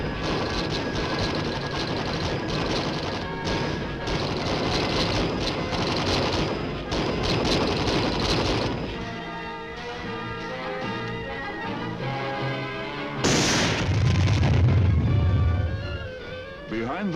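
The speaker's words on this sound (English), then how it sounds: "Behind the metal screen of supporting fire, Lieutenant Hadley leads the rest of the platoon to close with the enemy." Sustained rifle and machine-gun fire supports an infantry platoon advance in a Vietnam War battle, with dense overlapping bursts and booms, loud and continuous, shifting to heavier blasts later.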